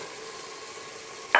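Spinach goes into a pot of frying daal for daal palak, heard as a steady close sizzle, then a short loud rustling scrape of stirring at the very end.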